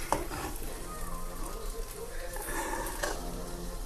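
Fish sizzles steadily while frying in a pan in a home kitchen, with a few sharp clinks of utensils against cookware cutting through the hiss.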